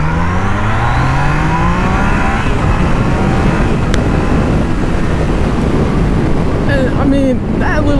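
Yamaha MT-09 motorcycle, a 2020 model, pulls forward under light throttle with quick short shifts, the engine note rising in steady sweeps beneath heavy wind rush, with a rider talking over it.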